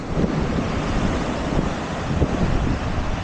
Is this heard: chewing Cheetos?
no